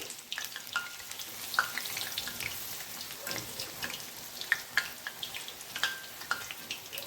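Avli leaf bhajiya frying slowly in oil over a low flame, giving a continuous crackling sizzle dotted with small bright pops and spits, close and fairly quiet, with no talking.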